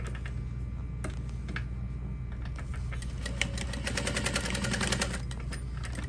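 A sewing machine stitches darts in vinyl on a small parachute knapsack with a short stitch length, a quiet steady motor hum with rapid ticking needle strokes that grow busier toward the end.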